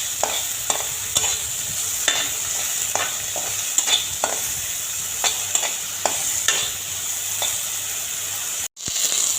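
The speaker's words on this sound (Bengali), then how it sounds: "তেলের মধ্যে আমি প্রথমে বেগুন ছেড়ে দিলাম।" Eggplant slices dusted with turmeric fry in hot oil with a loud, steady sizzle, broken by regular scraping clicks of a spatula stirring the pan and a brief dropout near the end.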